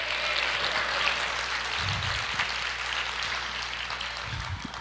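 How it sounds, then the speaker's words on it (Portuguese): A church congregation applauding at a leadership meeting, a steady broadband wash of clapping that holds evenly throughout, with low rumbling underneath. "Pode aplaudir o Senhor"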